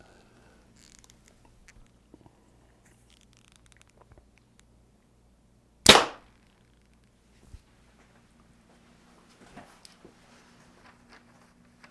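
A single arrow is shot from a bow through paper for tuning, heard as one sharp close snap and thump in an otherwise quiet room with faint background hum.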